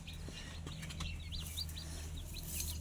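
Rapid high-pitched peeping of young chickens, a busy overlapping series of short chirps close by, with some low background rumble.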